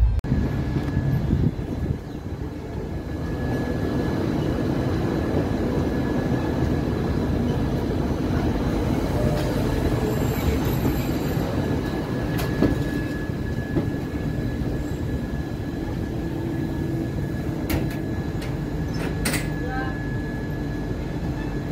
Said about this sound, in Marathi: आणि अशा प्रकारे आपली ट्रेन ही आउटरला थांबली आहे.